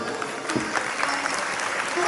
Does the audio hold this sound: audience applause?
yes